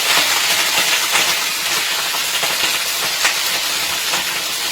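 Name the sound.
Brussels sprouts popping and sizzling in a hot pan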